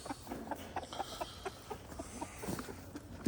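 Barred rock roosters cluck nearby in short, irregular bursts, with soft repeated calls scattered across a few seconds against quiet morning farm background.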